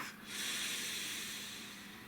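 A single deep breath drawn in and let out slowly, a soft airy hiss that swells near the start and holds steady, close and alone with no talking.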